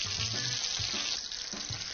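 Small patties fry in a pan with a steady, close sizzle that continues as they are flipped, with a few soft bumps of handling under the hiss.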